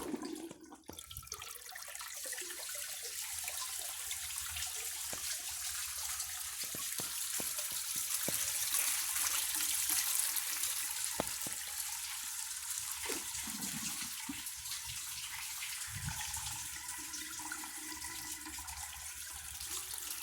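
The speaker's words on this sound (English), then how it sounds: "so now I'll try flushing a washcloth again" A 1992 Lamosa Sahara toilet flushes with a washcloth in the bowl, giving a sustained rushing, hissing wash of water that runs steadily for about twenty seconds with small gurgles, close and without talk.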